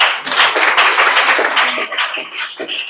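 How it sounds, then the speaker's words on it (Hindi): Students in a class 9 chemistry lesson clap together, a brisk run of close, loud claps with an uneven rhythm filling a few seconds. "ताली बजा दो।"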